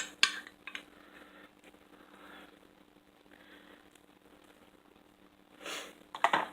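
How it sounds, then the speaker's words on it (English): A hot casserole dish of baked meatballs and cheese clatters and scrapes across a kitchen counter, with sharp knocks at the start and a louder grinding slide near the end, separated by quiet handling sounds. "let's slide this hot dish out of the way"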